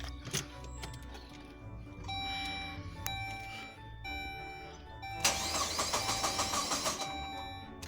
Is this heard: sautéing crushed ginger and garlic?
no